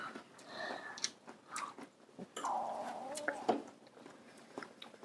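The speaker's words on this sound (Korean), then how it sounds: "아빠 오렌지 한 먹어봐야겠네" Someone close by bites into and chews a juicy orange, making soft wet crunches and smacking sounds. Brief household noises and quiet voices mix in, and the whole scene is faint.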